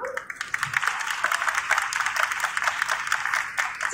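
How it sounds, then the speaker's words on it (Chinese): Audience applause at the opening ceremony of the 2023 international heavy motorcycle show, a steady wash of many hands clapping at moderate volume that carries on for the whole stretch. "那我们也一样请用热烈掌声来欢迎台湾本田股份有限公司高冈独石董事长塔卡欧卡桑。"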